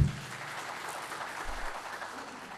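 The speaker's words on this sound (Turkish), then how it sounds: "Buyurun alkışlayalım." Faint applause from a crowd at the Trabzon Chamber of Commerce and Industry, a steady soft patter of clapping that sounds fairly distant, with no talking.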